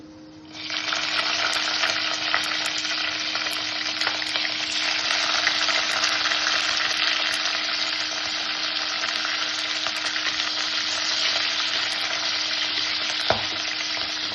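Green chillies frying in a pan for tomato garlic chutney give a steady, loud, continuous sizzle that holds without pause, with no voices.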